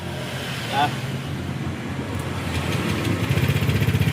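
A Honda Click 125i or 150i scooter engine starts and settles into a low, steady idle, rising slightly in the last second, with a person talking over it.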